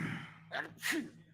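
A single sharp sneeze from a man with pollen allergies, a quick intake of breath followed by an explosive burst, close and fairly loud.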